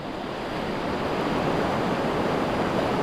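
Floodwater surges down a swollen river after a sudden rise that swept away a newly built bridge, a steady, loud, dense roar of rushing water that holds unbroken throughout.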